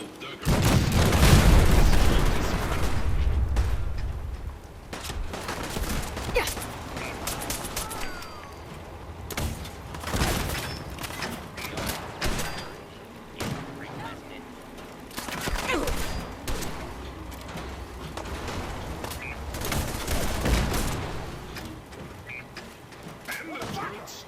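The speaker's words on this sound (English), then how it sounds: "The cannons are ready. Keep firing, soldier." Heavy booming cannon fire and gunfire from the video game Fallout 4 roll out repeatedly, a loud deep blast opening the stretch followed by more scattered shots, with voices speaking between them.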